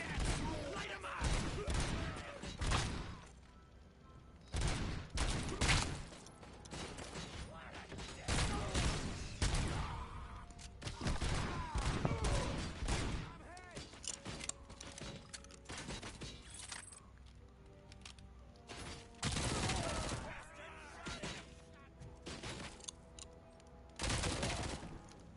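Bursts of gunfire in the Robocop film scene, repeated loud volleys and rapid shots spread across the whole stretch, with voices shouting in between.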